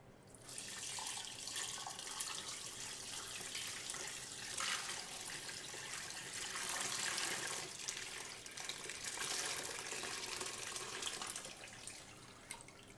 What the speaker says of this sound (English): we're going to go to the stove, grab our brine, and we're going to pour it in here and fill it up